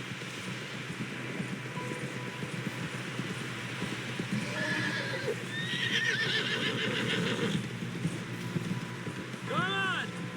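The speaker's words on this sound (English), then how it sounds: "Someone help John down off this horse" Horse neighing and whinnying with clip-clopping hooves in Red Dead Redemption 2, a busy outdoor game scene with steady hoofbeats, a clear whinny near the end, and voices talking over it.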